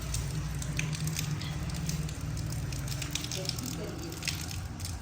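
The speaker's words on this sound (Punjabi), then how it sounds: "ਬਾਹਰ ਤਾਂ ਫਿਰ ਬਾਰਿਸ਼ ਸ਼ੁਰੂ ਆ" Rain falls outside in a village, a steady soft hiss and patter heard from indoors, continuous throughout, while a person talks over it.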